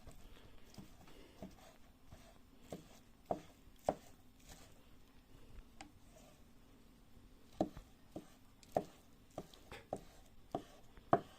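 Knife chopping a cooked omelette into small pieces on a board at home, irregular sharp taps in short bursts with pauses between, close and fairly quiet.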